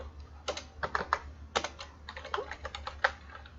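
Someone types HTML code on a computer keyboard. Soft, irregular key clicks come in small clusters over a low steady hum, fairly quiet, with no talking.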